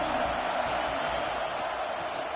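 Stadium crowd noise at a Clemson versus UTSA college football game, a broad, steady roar of many distant voices sustained without a break and with no nearby talk.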